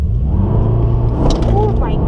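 A Mercedes-AMG E63S launches from a standstill on a slight uphill, its engine rumbling low and rising in pitch as it accelerates, loud and close, with voices talking over it.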